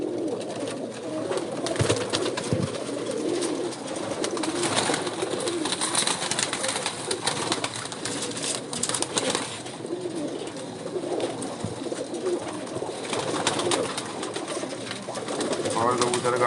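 Rare 79-breed pigeons coo steadily in a loft, a dense, continuous murmur of soft calls with people talking over them throughout.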